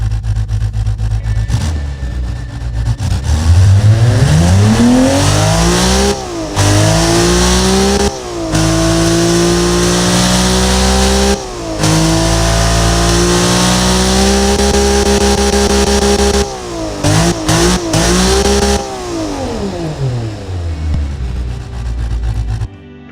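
Simulated car engine from the Automation game, a 1995 JDM build with six individual throttle bodies, idling and then revving up and down repeatedly with a loud, sweeping, buzzy tone and brief cuts between runs.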